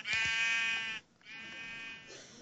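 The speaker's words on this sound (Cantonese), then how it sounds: "有羊喺度。" A sheep in Minecraft Pocket Edition gives a loud, close, wavering bleat, then a second softer bleat follows after a short gap, with no talk over them.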